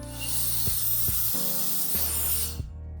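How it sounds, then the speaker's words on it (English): An X7 battery-powered portable dust blower runs with a loud, steady high-pitched turbo whine over a rushing airflow. Several clicks mark speed changes, and the motor cuts off abruptly at the end. "just pressing the trigger button once will keep the blower on until it gets pressed again"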